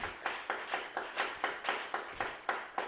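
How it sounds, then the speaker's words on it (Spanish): A church congregation claps to the Lord during a service, a steady rhythmic beat of roughly three claps per second carrying on evenly throughout with no talk over it. "Denle ese aplauso al Señor en esta hora"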